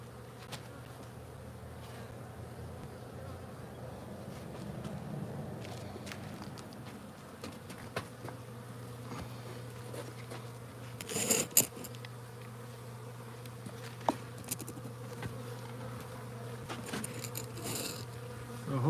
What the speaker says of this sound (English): You can see these bees are already lost and locked out.